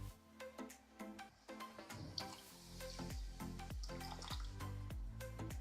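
Cornflour stirred into water is poured into chickpea chaat, giving close wet drips, splashes and a run of rhythmic liquid plops and spoon stirring.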